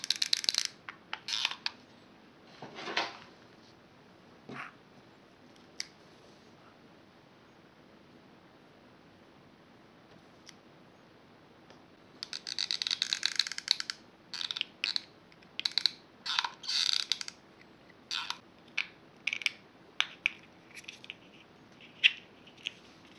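Small parts clatter as wheels are fitted onto a simple homemade mini electric car: scattered light clicks and scrapes, then a denser run of quick plastic taps and snaps later on, close but fairly quiet, with no talking.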